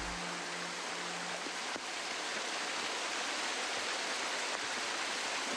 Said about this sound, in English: Water gushing forth relentlessly from the cliff.